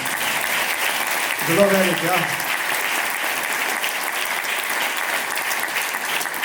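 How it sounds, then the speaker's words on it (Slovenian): Audience applause at a concert marking thirty years of a quintet fills the room steadily, with someone speaking briefly over the clapping. "tudi za to zasluži aplavz"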